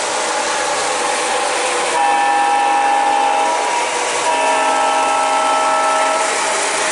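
An MTH PS3 O gauge model locomotive sounds its whistle in two sustained, loud chord blasts over the steady rumble of the running train, with no talking heard.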